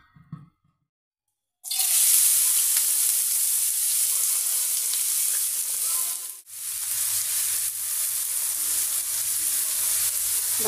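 Chopped potato and bottle gourd peels sizzle loudly in hot oil for a bhaji, starting abruptly after a brief quiet moment, with a steady close frying hiss that dips once and resumes.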